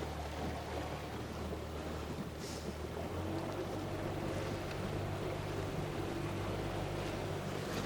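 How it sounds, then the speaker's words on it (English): Outboard engine of a Brig Falcon 570 RIB with a 115 hp motor, at the moorings on a Scottish sea loch: steady low engine drone running throughout alongside wind buffeting and water wash, fairly loud and continuous, no talk. "It's a Brig Falcon 570 rib with a 115 horsepower outboard engine"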